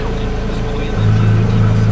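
A Porsche 911 GT3 of the 997 generation, still cold, with its engine running loud and steady before rising to a higher, fuller drone as the sport button is pressed.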